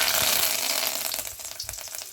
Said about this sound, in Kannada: ನೆಕ್ಸ್ಟ್ ನಾನು ಒಲೆ ಮೇಲೆ ಬಾಣಲಿ ಇಟ್ಟು ಒಗ್ಗರಣೆ ಇಡ್ತಾ ಇದ್ದೀನಿ